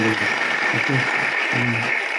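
An audience at a spiritual satsang gathering claps steadily throughout, a continuous wash of hands with a low voice intermittently audible underneath.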